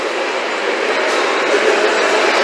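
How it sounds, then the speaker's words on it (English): A toy steam train gives off a steady, dense rattle and rolling clatter, loud and close, with no pauses and no talk. "This is a steam train."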